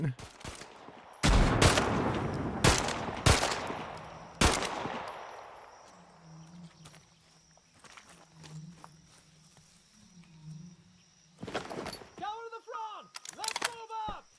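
Video game gunfire cracks out in a burst of several loud, sharp shots over the first few seconds, followed by quieter ambient rumbling and later brief clatters; a voice talks intermittently throughout.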